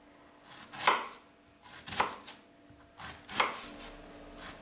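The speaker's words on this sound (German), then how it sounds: "Und dann schneiden wir den in Scheiben." A knife slices a halved, cored vegetable into strips on a board, giving four crisp, evenly spaced cuts close by, with quiet pauses between strokes and no talk.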